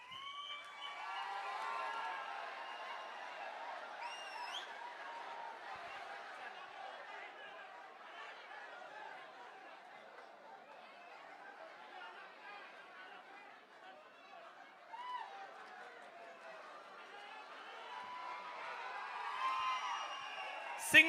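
Large crowd at a Tamilaga Vettri Kazhagam party anniversary event in a packed hall, with sustained cheering, whoops and chatter rising and falling, voices overlapping throughout and a louder swell near the end.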